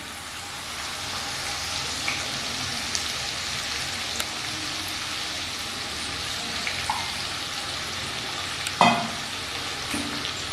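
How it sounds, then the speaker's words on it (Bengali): Onion, green chillies and chopped garlic frying together in a pan over a medium flame give a steady, moderate sizzle, with a few scrapes and clinks of stirring and one sharper knock near the end. "এবার একটু লালচে করে ভেজে নিচ্ছি।"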